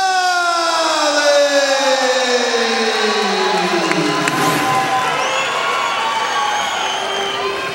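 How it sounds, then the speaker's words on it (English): A crowd at a 2007 MMA fight event at the Austin Convention Center in Texas cheers and whoops loudly and steadily for a fighter, with a descending siren-like tone sweeping down at the start. "You heard, though, a big applause for Alex Andrade, very known, respected fighter"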